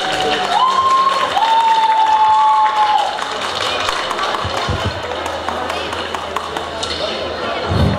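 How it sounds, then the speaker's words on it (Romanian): An audience at a school historical sketch contest during municipal days celebrations applauds, with clapping and scattered cheering. A voice over the clapping and a brief tonal whistle are also heard. "Aplauze!"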